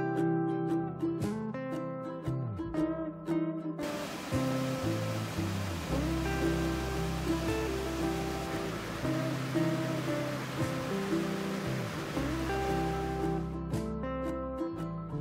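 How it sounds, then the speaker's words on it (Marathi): Monsoon waterfalls pour down the mountain slopes around Bhandardara in Akole, giving a broad, steady rushing roar for several seconds in the middle. Music plays over it throughout. "डोंगर रांगावरून धबधबे कोसळण्यास सुरुवात झालीये"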